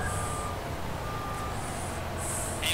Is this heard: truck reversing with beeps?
yes